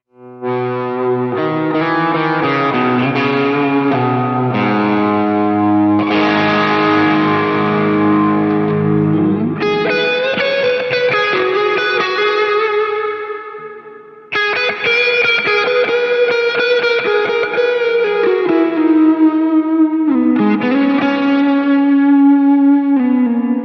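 A distorted electric guitar plays sustained lead lines through a Line 6 POD GO with echo and a wide stereo spread, loud and continuous with one brief break.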